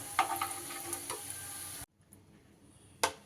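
Pumpkin fritters sizzle in oil with light spatters and ticks, then the sound cuts out abruptly, leaving a quiet hiss before a brief final crackle.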